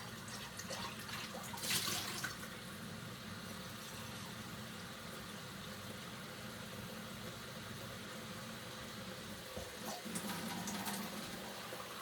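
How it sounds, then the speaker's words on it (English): Faint, steady trickle of running water from a tap into a pan to rinse butter beans, with a low background hum and a couple of brief splashy bursts. "I'll put me a little bit of water down in my pan and rinse my beans."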